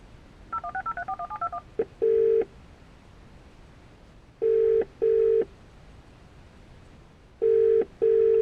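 Outgoing call placed through a Parrot MKi9000 hands-free car kit in a Vauxhall Corsa C: a quick run of dialing tones, then three pairs of steady ringback tones separated by silent gaps, clear and close.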